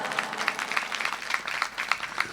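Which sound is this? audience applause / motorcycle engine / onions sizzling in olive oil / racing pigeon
audience applause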